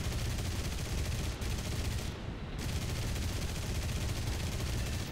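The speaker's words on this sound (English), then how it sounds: "Something's shooting at us" Dense, continuous gunfire rattles through War Thunder aerial combat involving Russian fighter planes. It is loud and steady, sounding like overlapping bursts for the whole stretch, with no pauses.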